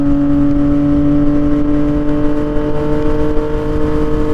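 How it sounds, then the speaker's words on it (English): A truck rushes past fast and close, its steady engine drone and tire roar filling the moment on its own, with no talking. "It's kind of dangerous for a truck to be going through that fast."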